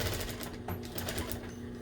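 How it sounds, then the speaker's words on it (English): A sewing machine top stitching a ribbon appliqué runs in a quiet, rapid, steady stitching chatter, close and continuous. "And finish top stitching all the way around."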